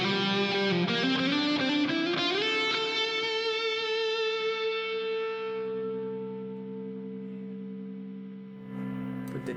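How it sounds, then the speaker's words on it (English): An electric guitar played through a laptop serving as amp head with digital reverb: a distorted chord is struck and sustains, ringing out and slowly decaying in a long reverberant tail, loud and alone. "There's the reverb, digital reverb."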